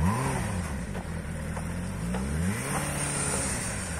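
A car engine revs gently during clutch practice, pitch rising and falling in smooth waves under light throttle, steady and close with no talk.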